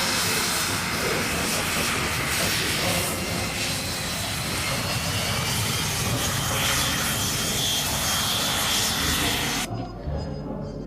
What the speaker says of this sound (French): Retour du L-39